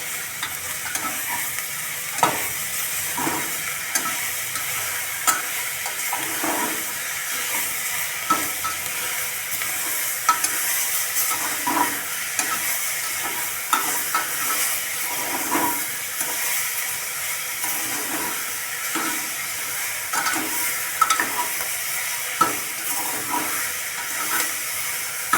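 Tomato pieces being stirred into frying onion, capsicum and potato in a pan, with regular spatula scrapes and clacks over a continuous sizzle, close and steady for a long stretch.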